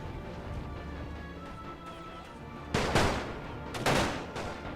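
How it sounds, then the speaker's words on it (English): Machine gun fire in The Great War 6.0, the First World War strategy game: a steady low battlefield rumble broken by two loud bursts of rapid shots close by, each fading into echoing crackle. "The machine gun has opened fire now."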